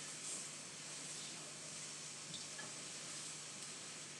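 Vegetables sauté in a hot pan with a steady, faint sizzle and hiss that runs evenly throughout, with no talking over it.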